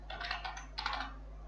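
Typing on a computer keyboard, two quick runs of close, soft key clicks separated by a brief pause, over a faint steady hum.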